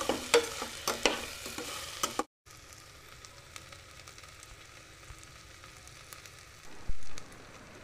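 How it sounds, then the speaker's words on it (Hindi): Washed lentils and rice for sprouts khichdi roast and stir in a hot pan, with scraping and soft crackle loud at first, then a short gap and a quieter steady sizzle with occasional clinks. "इसके बाद वॉश किए हुए दाल चावल डालेंगे। एक दो मिनट भूनेंगे।"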